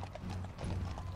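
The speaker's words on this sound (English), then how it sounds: "So he's riding his horse now." Horse hooves clip-clop in Dynasty Warriors 8 as a character rides at the Battle of Chibi, a steady rhythmic trot mixed into a dense, loud game soundscape of battlefield noise.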